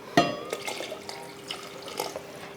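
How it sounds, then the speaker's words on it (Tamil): Water poured into a pot of mutton curry cooking for a Tamil non-veg festive lunch, a short splashing pour with trickling and dripping that fades after a couple of seconds, close and fairly quiet. "இப்போ தண்ணி இன்னும் கொஞ்சம் சேர்த்துக்கலாம்."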